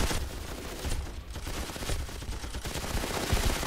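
Sustained machine gun fire in Ravenfield, a dense, continuous rattle of rapid shots at close range with no pauses, loud throughout.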